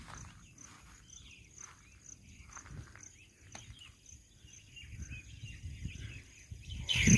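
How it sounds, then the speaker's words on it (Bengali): Several birds call near an old temple in a forested hillside ruin, with chirps scattered through the clip alongside a steady insect buzz and some low rustling. Footsteps or movement become louder toward the end. "এখানে প্রচুর পাখির ডাক শোনা যায়।"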